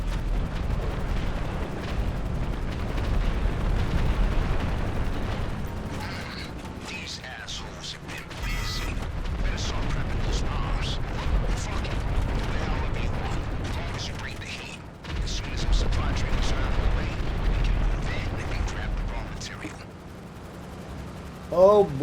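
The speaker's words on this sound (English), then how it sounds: "so I'm just gonna start doing a bombing run." A bombing run over a quarry in the video game GTA Online, San Andreas Mercenaries update, brings heavy rumbling explosions and mechanical clatter that rise and fall under frequent talking.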